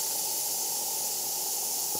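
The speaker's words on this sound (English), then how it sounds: "when the pressure reaches 60 pounds per square inch, the boiler's safety valve blows off" A model steam boiler's safety valve blows off at 60 psi in cold conditions, giving a steady, fairly loud hiss of escaping steam that runs unbroken throughout.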